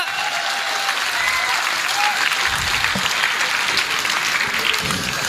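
An audience at a live Hindi satirical comedy show applauds with sustained clapping that fills the whole stretch, dense and steady with a slight swell in the middle.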